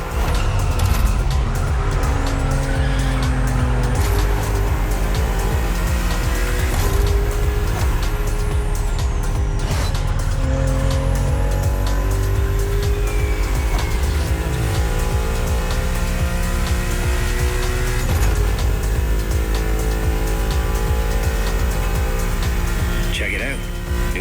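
A tuned BMW in Liberty Walk wide-body trim, with Kato-style front bumper, rear wing, low side skirts and riveted wide fenders, drives in The Crew Motorfest racing game. The engine drones loudly and steadily throughout with tire squeals, while a voice talks over it.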